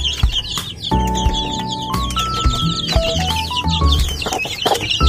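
A hen clucks repeatedly close by beside newly hatched chicks, whose high peeping chirps run throughout, with loud, busy layered calls and no talking.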